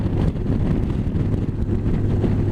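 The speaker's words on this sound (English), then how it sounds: "Kind of windy today," Steady wind buffets a microphone during a road ride from Preston to Lanesboro, a dense low rumble with gusty fluctuations and no clear pauses throughout.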